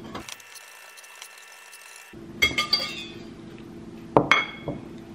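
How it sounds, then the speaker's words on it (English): A whisk works pumpkin muffin batter in a mixing bowl: after a quiet stretch of faint room hum, a few bright clinks and taps of metal against the bowl come in scattered bursts. "So I'm just gonna whisk this one and combine it."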